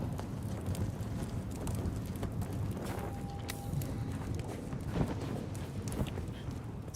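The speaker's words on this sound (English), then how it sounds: "It's those lanterns. They sound like doing a popping, buzzing sound." Lanterns in the Dune Awakening video game give off a steady popping, buzzing crackle like quick running footsteps, a continuous dense patter heard close with brief faint tonal hums.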